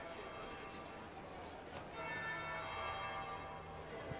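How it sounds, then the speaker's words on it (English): A bell tolls in the video game Dragon Age Inquisition, a faint ringing tone drawn out over a quiet ambient background. "That would be the second bell."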